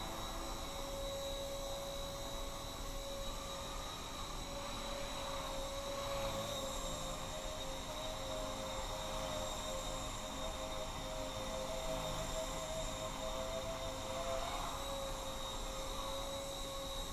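Blade Nano CP S small RC helicopter flying indoors, a steady faint high-pitched whine of tiny motors and rotor hum, continuous without talk.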